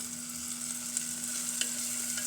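Carrot, green chili, moringa leaves, curry leaves and mint sauté in hot oil for Ramadan ganji, a close, steady sizzle and crackle with a few soft stir clicks and no talk.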